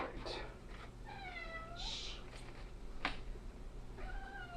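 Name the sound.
cat meowing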